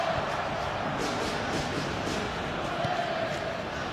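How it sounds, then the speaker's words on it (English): A stadium crowd of Indonesian fans roars in PES 2021 during a Brazil versus Indonesia esports match, a dense, steady wash of cheering with faint rising chants, heard at a distance. "that's woken up the Indonesian fans here in the crowd."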